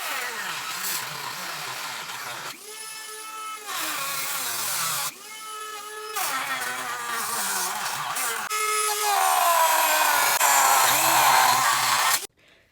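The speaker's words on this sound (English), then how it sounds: "Sure, using the Dremel is super slow, super annoying, super tedious" A Dremel oscillating tool cuts through the wooden floor of a school bus being converted, its high buzzing whine starting and stopping in several bursts and rising to a long, loud, continuous cut before stopping abruptly.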